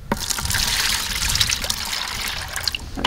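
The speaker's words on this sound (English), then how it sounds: "Just going to put a few glugs in here." Liquid glugs from a container into a plastic bucket, a steady trickling and splashing pour that runs nearly unbroken for about three seconds, close and fairly loud, with no talking.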